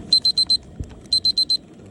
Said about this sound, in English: That's the alarm for the temperature gauge.